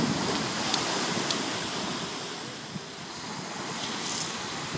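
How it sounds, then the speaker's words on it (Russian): Black Sea waves in Abkhazia, a steady broadband wash of surf rolling in continuously at moderate loudness, with faint wind buffeting the microphone and no voices. "Волны красивые."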